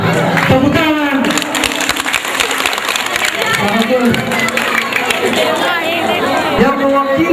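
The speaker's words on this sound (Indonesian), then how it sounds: "hadiah atau kado ulang tahun Ibu Sorai adalah tepuk tangan" A crowd at a Nias cultural birthday celebration for Ibu Sorai claps and cheers, with loud applause, chatter and shouting mixed together under ongoing voices.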